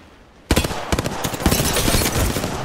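Heavy video game gunfire bursts in loud and close after a short quiet lead-in, then keeps going as a dense, rapid string of overlapping shots and impacts.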